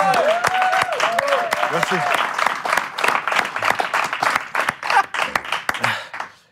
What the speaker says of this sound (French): on peut l'applaudir très très fort d'être arrivé jusque-là